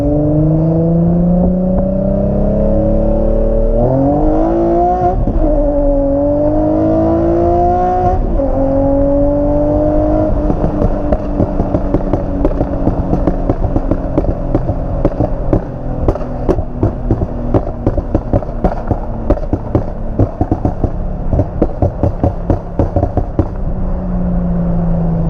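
Tuned Infiniti G35 coupe accelerates hard from a roll, its engine rising through the gears with a loud droning exhaust, then a long run of rapid crackling pops and backfires heard from inside the car.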